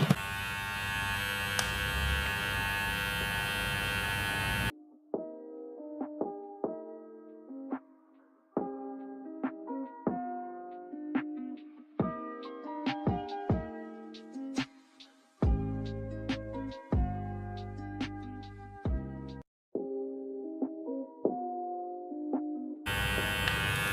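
A VGR V-066 hair clipper runs at full speed, a steady high-pitched electric buzz with brief dips and surges in load, between louder stretches of noise at the start and end.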